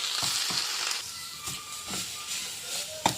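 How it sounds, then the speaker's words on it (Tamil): Coriander and curry leaves sautéing in a pan, a soft steady sizzle and hiss with a few light scraping stirs close by. "இதை நல்லா வதக்கிக்கணும்."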